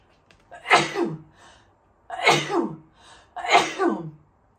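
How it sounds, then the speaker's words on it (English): A person sneezes three times in quick succession, each a sharp, close burst with a quick inhale between them. "I feel like I'm about to sneeze, so hold on."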